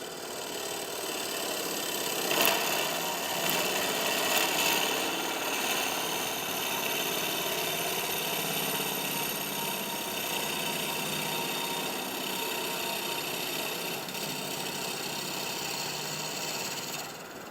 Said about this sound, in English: It's cutting pretty good. We're getting pretty good shavings.